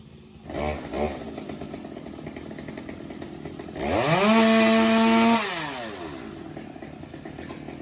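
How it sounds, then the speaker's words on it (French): A chainsaw up in a tree revs twice briefly, then roars up into a sustained high-pitched cut before dropping back to a rough idle at moderate distance. "Tu vois avec quelle dextérité il joue avec sa tronçonneuse qui raccroche."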